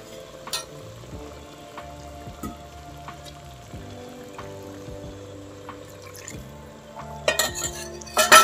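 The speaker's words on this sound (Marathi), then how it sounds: "जरा थोडासा पाणी टाकूया, नाहीतर ते चिकन खाली लागतं." Chicken fries in a pan with a little water added for gravy, giving a faint, steady sizzle with occasional light clinks. The sizzle and clatter grow louder and busier toward the end.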